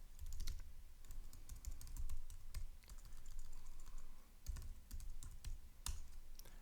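Keystrokes tap quickly on a computer keyboard, a close, quiet run of irregular clicks with a few sharper key strikes, no voices.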